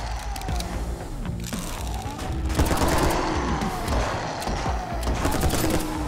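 Gunfire in the video game 10 Miles To Safety, rapid bursts and overlapping shots crackling through a building fight, loud and continuous with voices faintly underneath.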